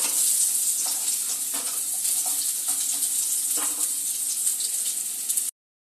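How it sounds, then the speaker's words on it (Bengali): Loud, steady sizzling of potatoes frying in hot oil, with occasional stirring scrapes, cutting off abruptly before the end. "আলুগুলো একটু লাল লাল করে ভেজে নেবো"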